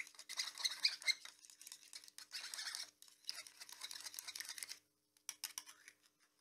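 Stir stick scraping and tapping around a cup of cell activator paint mix, a busy clattering patter of quick strokes, close and fairly quiet, with a brief pause near the end before stirring resumes.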